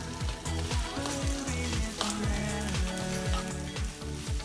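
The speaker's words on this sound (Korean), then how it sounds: "볶음밥에 양념이 골고루 잘 배도록 볶아주세요" Fried rice for omurice, seasoned with tonkatsu sauce, is stir-fried in a pan. A steady close sizzle runs under quick, regular scraping strokes from the spatula, with no talking.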